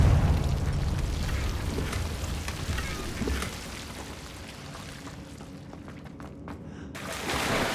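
A Confringo blasting spell goes off in Hogwarts Legacy with a loud, rumbling explosion that swells and slowly fades. Softer debris and crackle follow. Another burst rises at the end.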